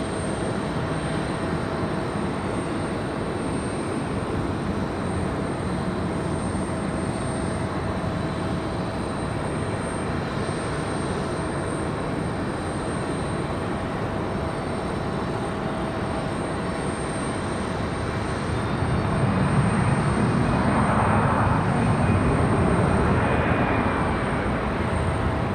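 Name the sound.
airplanes at Raleigh Durham International Airport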